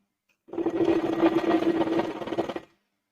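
An electric sewing machine stitches a frock in one continuous burst of about two seconds, a steady buzzing whir that starts and stops abruptly in a quiet room.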